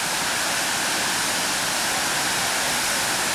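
Gravity-fed fountains at the Peterhof Grand Palace, water rushing and splashing in a loud, continuous, even roar that fills the space, with no voices.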